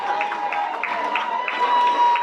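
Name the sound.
audience applause and cheering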